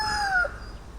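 A rooster crows once, close and loud, its call sliding downward and ending abruptly, followed by quiet outdoor background.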